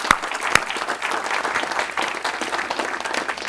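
An audience applauds journalism fellows with sustained, even clapping from a full room. A couple of sharp, close claps stand out near the start, and no one speaks.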